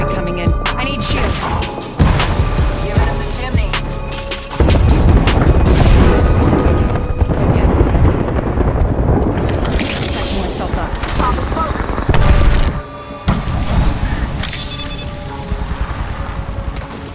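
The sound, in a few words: airstrike explosions in a video game (Wraith gameplay)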